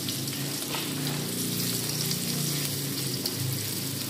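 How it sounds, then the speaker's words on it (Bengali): Chopped onion and green chillies fry in hot oil, giving a dense, steady, close sizzle that hisses without a break and has no talking over it. "এখন দিয়ে দিচ্ছি পেঁয়াজ কুচি আর কাঁচামরিচ"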